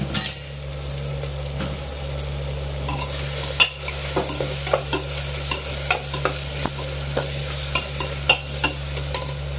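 Onions and tomatoes with a little salt sauté in a pan, a steady sizzle under a low hum, punctuated by repeated sharp stirring knocks and scrapes of a spoon against the pan, close and fairly loud.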